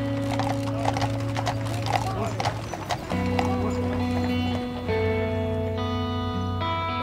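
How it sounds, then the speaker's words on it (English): Hooves of a horse pulling a funeral carriage clip-clop steadily on the road at the start of a procession to a cemetery, with music and voices underneath. "the family transfer Mikey to a horse-drawn carriage"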